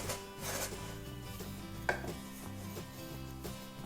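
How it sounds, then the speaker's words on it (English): A knife scrapes soft lazy pierogi dough, made from a Polish recipe, off a cutting board in a series of short, light scrapes and taps over steady background music. "I'm gonna get a knife to get this off my board a little bit."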